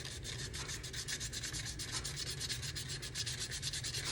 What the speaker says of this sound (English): This is a very much loved 400 grit sandpaper that I'm gonna go super, super light around here.